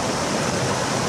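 A waterfall in Spain roars steadily and loudly up close, a dense continuous rush of falling water with no gaps and no voices.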